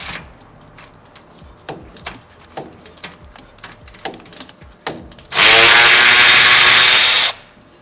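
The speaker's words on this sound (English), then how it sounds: "I recommend using a short 12 or a ratcheting wrench in this section." A ratcheting wrench works on the suspension of a 2022 Tundra during a Dobinsons suspension install, making a series of crisp, close clicks and scrapes, followed by a long, very loud, harsh burst of noise.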